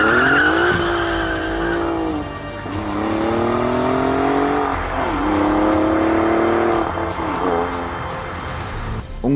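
An Alfa Romeo special-edition sports car's Akrapovic exhaust roars loudly and continuously, its pitch climbing and dropping through repeated revs and gear changes.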